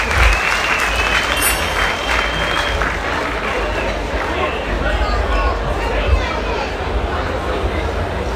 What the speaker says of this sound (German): Applaus für unsere Solisten, gute Unterhaltung.